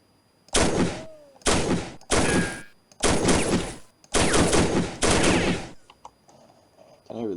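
Gunfire from the World War II strategy game Soldiers: Heroes of WW2, six loud bursts of rapid automatic fire separated by short pauses, close and dominant, with quieter game sounds afterward.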